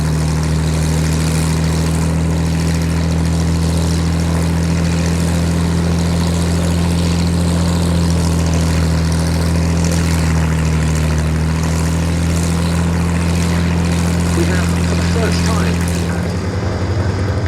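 A vintage propeller combat aircraft flies at a Battle of Britain air display at Duxford, its loud steady engine drone droning throughout with a strong low hum while a voice talks over it.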